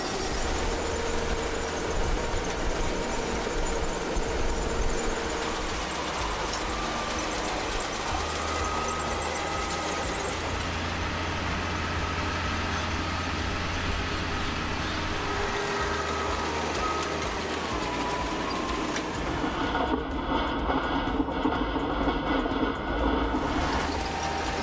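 A John Deere 8R 410 agricultural tractor working a wheat field gives a steady, loud engine drone that runs unbroken through the whole stretch, with no voices.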